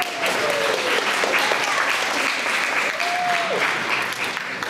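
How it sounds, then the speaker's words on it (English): Audience applause for a winning team at a youth tech day award ceremony, steady dense clapping filling the room throughout, with faint voices underneath. "Another round of applause for them."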